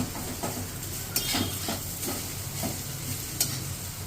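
Boiled vermicelli upma is stirred and loosened in a pan, producing a steady close scraping and shuffling with a light sizzle underneath and occasional sharper spatula knocks; nobody speaks.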